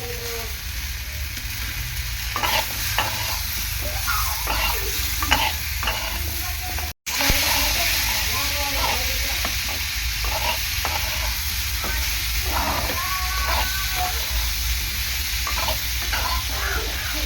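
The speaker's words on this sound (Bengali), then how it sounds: "লবণ দিয়ে ভালো করে নাড়াচাড়া করে নেব।" Vegetables seasoned with salt are stirred in a frying pan, a loud continuous sizzle with repeated scraping strokes of a spatula throughout and one brief gap, no talking.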